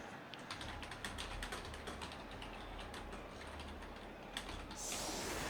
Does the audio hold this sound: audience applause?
no